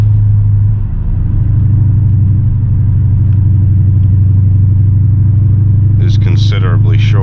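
Steady low engine drone of a BMW E39 540i V8 with a six-speed manual and 3.15 rear differential, pulling in sixth gear while driving; a constant deep rumble with brighter whining bursts near the end, under faint talk.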